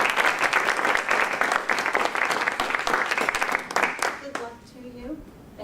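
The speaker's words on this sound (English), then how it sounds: "can we give them a nice round of applause?" Loud, dense applause from a crowd at a township committee candidate debate fills the room, then tapers off as a few claps and voices remain at the end.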